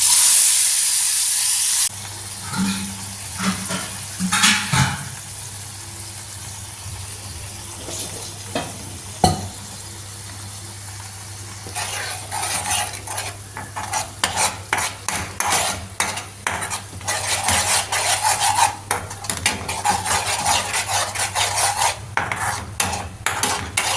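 Ground masala paste of cashews, almonds, onion, tomato and coriander roasting in a pan, with a steady close sizzle under repeated scraping and clinking of a spoon stirring against the metal.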